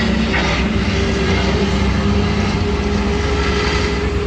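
Steady, loud roar of a real 747 airliner's engines fills the space, a continuous broadband drone with a low hum and no pauses.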